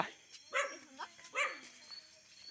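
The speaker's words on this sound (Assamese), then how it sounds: "ইয়াত কুকুৰ ভুকিছে" A few distinct barks from a dog at moderate distance, spaced about a second apart against a quiet background.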